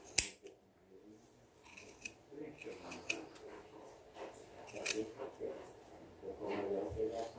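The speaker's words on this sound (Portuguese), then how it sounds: "Por isso que é bom uma tesoura boa." Scissors cut yarn while a crochet hat is being made, giving a series of sharp, close snips at irregular intervals, with quiet handling noise between them.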